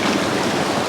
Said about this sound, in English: Creek's just flowing down in between it all.